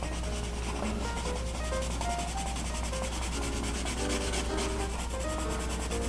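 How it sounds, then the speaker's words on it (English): Black colored pencil shading on paper with steady dry rubbing strokes, continuous and close, faintly scratchy over a low steady background hum, with no talking. "I'm going to use this black pencil to finish up my shadow"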